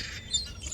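Migratory seagulls on the coast of Oman give a few brief, high squawking calls over a low wind-like rumble, at moderate distance.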